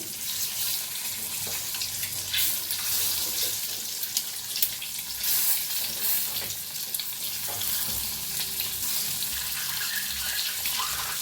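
An egg fries in hot oil in a pan, a continuous broad crackling sizzle that stays fairly loud and steady, with a few louder pops and bursts scattered through it and no talking.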